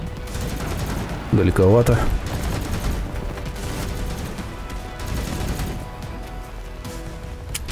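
Rapid, steady gunfire from vehicle weapons rattles through a Crossout battle, dense and continuous under the engine drone, while someone briefly speaks over it.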